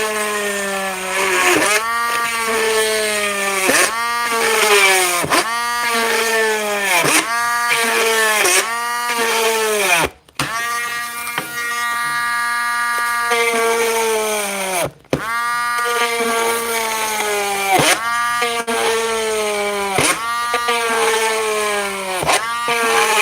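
A hole punch drill whirs in repeated bursts, each with a rising-then-falling motor pitch, steady and loud, with brief pauses between runs.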